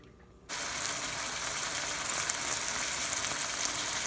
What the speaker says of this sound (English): Alright, it's sizzling.